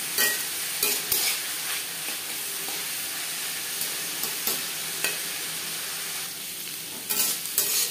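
Mixed vegetables stir-fry in a pan for fried rice, a continuous sizzle broken by a spatula's scraping stirs at irregular intervals; no speech.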